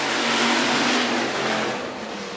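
Hobby stock or sport compact race cars roar away together at a green flag start on a speedway dirt oval, a loud, dense engine rumble that swells briefly and then eases slightly as the pack pulls off.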